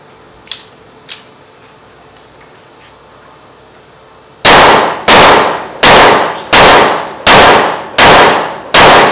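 Tokarev 7.62×25 pistol, a cheap 30 bore handgun: two faint pops, then seven loud, sharp shots fired one after another in a steady, quick rhythm.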